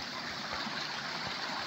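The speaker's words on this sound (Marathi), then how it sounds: "पाण्याचा झरा आहे." A stream of water runs beneath a village footbridge in Ratnagiri with a steady, close rushing flow.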